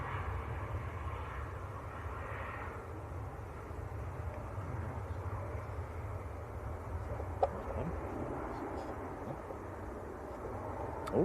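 A Norse Boeing 787 Dreamliner taxiing at Manchester Airport gives a steady, distant low rumble that continues throughout, with no voices.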